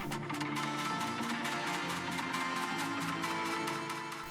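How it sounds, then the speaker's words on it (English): Guitar delay effects heard on their own form a dense, washy wall of repeating echoes with a steady pulsing rhythm, moderately quiet and continuous throughout. "this is what those delays sound like completely on their own"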